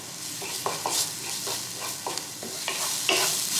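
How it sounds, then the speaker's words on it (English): About a teaspoon of cumin cooks in a little oil in a pot, giving a continuous close sizzle with repeated scraping stirs over the frying. "I'm going to pour a little bit of oil here in the middle, and I'm going to add about a teaspoon of cumin."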